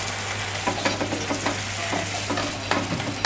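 Warm stock goes into rice cooking in a hot pan, giving a loud, steady sizzle close by with a low hum beneath and frequent scraping stirs, and no talk.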